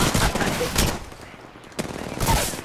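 Gunfire in a first-person shooter match, with bursts of shots in a few loud clusters separated by quieter gaps.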